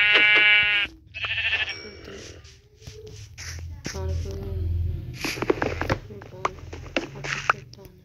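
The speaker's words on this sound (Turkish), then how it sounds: "Koyun." Sheep in the Minecraft video game bleat in short nasal calls at the start, under other game sounds and someone talking quietly.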